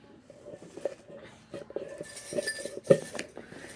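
A utensil stirs a slime mixture with lotion in a bowl, making close, intermittent clinks and scrapes in an uneven rhythm.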